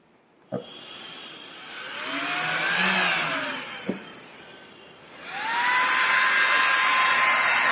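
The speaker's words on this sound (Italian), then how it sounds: "Queste ventole sono veramente potenti. Fanno un getto d'aria veramente potente" Powerful adjustable fans blowing air into a homemade metal-melting furnace, a loud steady whooshing roar that swells, dips briefly, then surges back strongly, with a couple of sharp clicks.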